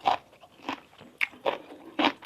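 Someone bites and chews crunchy fresh vegetables served with shrimp-paste chili dip, five distinct crisp crunches spaced about half a second apart, close and fairly quiet.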